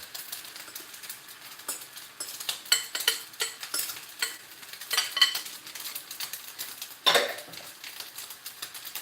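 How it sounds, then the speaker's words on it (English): A spoon stirs a mixture in a hot pan for Mongolian beef, giving repeated scraping and clinking strokes over a faint sizzle, close and irregular with no talking. "just give that mixture a little bit of a stir"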